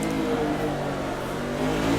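A Formula 1-style race car in Assetto Corsa accelerates with a continuous loud, buzzing engine note, steady and close throughout, with no talk.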